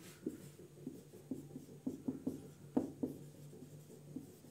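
Strokes of writing on a classroom board during a physics lesson: a faint, close series of short taps and scratches in an irregular rhythm.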